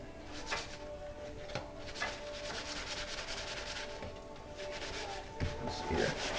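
A drywall sponge scrubs heavy rust and grease off a metal surface, giving a steady, close abrasive rasping with repeated strokes and brief harder swipes, heard on its own with no talking.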